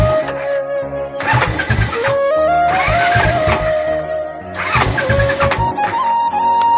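A Royal Enfield motorcycle fitted with a new exhaust is started, the starter cranking in bursts before the engine catches and settles into a steady, loud idle heard up close.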